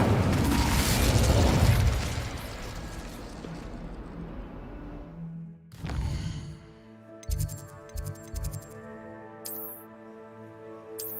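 Spell effects from the Hogwarts Legacy video game: a loud, dense roar of bursts and blasts for about five seconds, then a sharp boom, followed by scattered clicks, pops and shimmering chimes over a sustained tonal hum.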